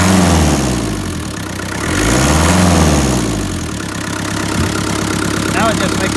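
Land Rover Series 2A with a 2.25-litre diesel idling after a cold start, a loud close mechanical rumble with a steady low beat and slowly swelling and falling revs, a voice speaking faintly over it.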